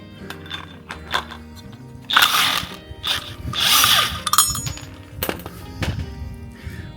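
A power tool, likely an impact driver, whirs and rattles in short bursts while removing the four bolts holding a seized lawn mower spindle, mixed with metallic clinks and clunks nearby.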